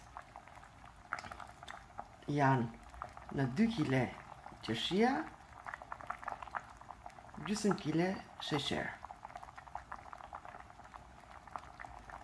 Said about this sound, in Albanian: Reçeli vazhdon të ziej.